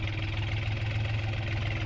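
A tractor engine runs in a farm field, a steady low rumbling drone at moderate distance with even, unbroken throbbing.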